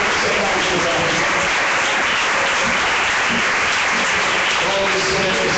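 Church congregation applauding in a dense, loud, continuous wash of clapping that fills the whole clip, with voices mixed in.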